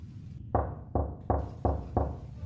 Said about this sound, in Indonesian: terdengar ketukan pintu dari ruang depan.